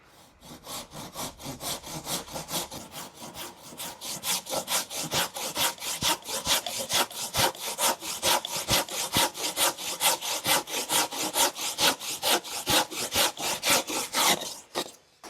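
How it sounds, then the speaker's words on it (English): A hand saw cutting timber for a handmade door with a curved head: steady back-and-forth rasping strokes repeat in a fast, even rhythm for about fifteen seconds, close and loud, with no talking. "Oh, left-handed sawing, come on."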